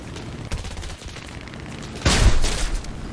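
Defensive turret machine-gun fire from a Do-17 E-1 bomber in War Thunder, a low rumbling burst of rapid shots over steady engine drone, growing louder and denser in the last second.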